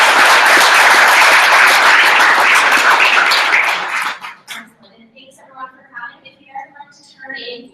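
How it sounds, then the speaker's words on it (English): A crowd applauds the speakers at the close of a talk event, loud sustained clapping for about four seconds that then cuts out, leaving scattered quiet noises and faint talk. "Let's give our speakers a round of applause."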